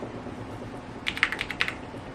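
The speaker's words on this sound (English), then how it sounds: "and then the keys sound so like buttery" A computer keyboard with smooth, buttery-sounding keys is typed on in a short, close burst of several soft, rounded clacks after a quiet moment, with no talking.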